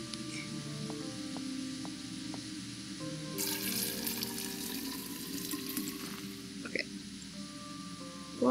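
Water runs steadily into a pot in the video game Fran Bow, a continuous rushing tap stream lasting several seconds over a low ambient hum, ending with a small clunk.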